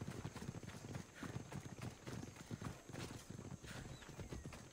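Rhythmic hoofbeats of the horse Phobos galloping in Assassin's Creed Odyssey, a steady repeating clip-clop, fairly faint, with ambient game sound.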